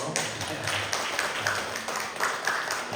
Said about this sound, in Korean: 그런 사랑의 박수 한번 드릴까요?